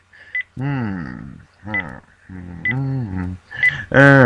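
Phone dialing tones: a series of beeping touch-tone bursts in uneven groups, loud and close, ending in a stronger final tone.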